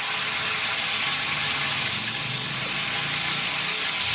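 Water gushes steadily into a large cooking pot for chicken pulao, a continuous close, loud pouring wash with no talk over it.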